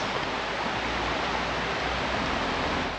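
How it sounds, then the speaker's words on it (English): A river in Helen, Georgia rushes steadily on a cold, brisk morning, a close, dense and constant wash of flowing water with no talk. "It's just so nice to listen to the sounds of the river."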